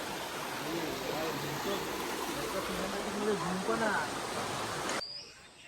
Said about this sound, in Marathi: मधून हा झरा वाहतोय इथून